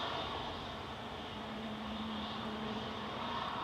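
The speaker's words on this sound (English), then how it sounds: "EasyJet is now moving." An EasyJet Airbus A320-200 taxis at Manchester Airport, its engines a steady, distant whine and hum that holds evenly throughout with no voices.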